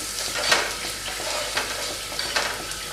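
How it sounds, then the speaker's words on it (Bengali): Spice mixture with chopped green chillies for a Bengali rui fish chop frying in a pan over medium flame, a steady soft sizzle with periodic scraping stirs of a spatula, close and moderately quiet. "এটা কষিয়ে নিই ভালো করে।"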